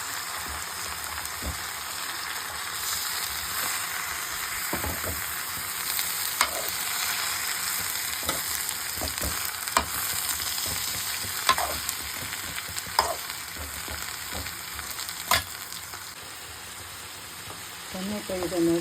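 Curry leaves and chopped tomatoes fry in a pan, giving a steady close sizzle with occasional stirring clicks throughout.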